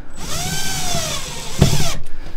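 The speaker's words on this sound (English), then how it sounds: "we're not going to tighten it down all the way until we get all the rest of our screws in" Power drill driving screws into wall anchors while mounting a dual EV charger, a rising-and-falling motor whine in two short bursts, the second ending with a heavy low thud as the screw seats, close and loud.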